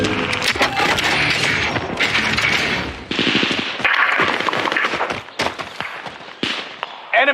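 Dense gunfire from a battle royale video game: loud rapid bursts of automatic fire and single shots come in clusters with short gaps, mixed with impacts and game effects.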